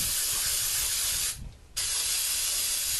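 An aerosol can sprays cleaner onto a mass air flow sensor in long, loud hissing bursts, broken by one brief pause before the spraying resumes.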